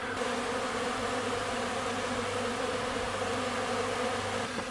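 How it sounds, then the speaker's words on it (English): A dense, steady buzz of many honeybees flying around a hive, continuous and close, with no other sounds. "These are just bees that are getting out for the first flight"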